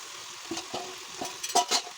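Fried potatoes tipped into a hot sizzling pan for a winter cooking dish, with a few soft clattering drops and stirring scrapes over a faint steady sizzle, fairly quiet and close, no talk.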